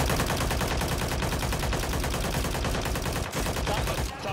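Dense, continuous automatic gunfire fills a Call of Duty match, loud rapid bursts overlapping with barely a pause, dropping off briefly near the end.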